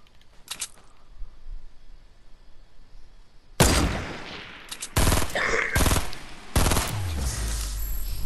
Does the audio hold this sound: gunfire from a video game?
yes